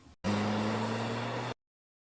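A car engine drones in a steady, loud hum for about a second before cutting off abruptly into silence.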